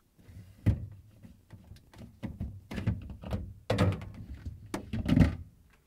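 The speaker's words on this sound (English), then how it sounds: "We will start with removing shelves." Shelves being pulled out of the fresh food compartment of a Samsung refrigerator, giving a series of hard plastic and glass clunks and knocks at close range, several sharper thuds spaced irregularly with no talk.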